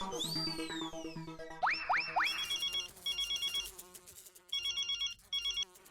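Telephone ringing in a Hindi TV comedy scene, a series of electronic ringtone bursts with short gaps, preceded by a musical sound-effect swoop, loud and close with no talk.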